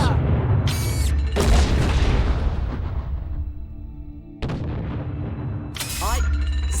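Ship cannons firing in Treasure Planet: Battle at Procyon, loud booming volleys that come in bursts with mechanical clanks between them, and a deep rumble that fades before the next shots.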